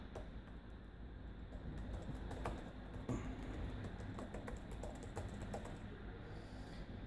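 Faint, quick clicking taps come from typing on a Toshiba Satellite C855 laptop keyboard with shallow, low-travel keys, spread irregularly across several seconds.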